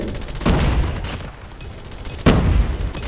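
Gunfire in the Call of Duty Mobile video game: two loud, rapid bursts of automatic shots with a quieter stretch between them, with no speech.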